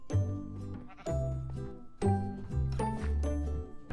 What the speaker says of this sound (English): dumbass sheeps